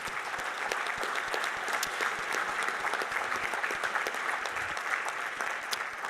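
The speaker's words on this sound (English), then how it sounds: "Give a big round of applause for Rogers Pharmacy" Sustained audience applause at a university hall of fame induction ceremony, a dense, even crackle of many hands clapping in a large room, heard at a moderate distance and holding steady for several seconds.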